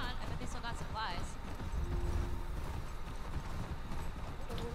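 Horse hooves clip-clopping at a steady rhythm while riding in The Last of Us 2, close and clear, with people talking over the hoofbeats.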